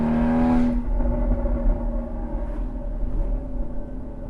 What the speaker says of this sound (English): the exhaust is definitely louder.